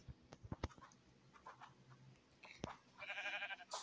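Sheep in Minecraft give short bleats amid scattered quiet clicks and taps, faint overall, with one brief louder burst near the end.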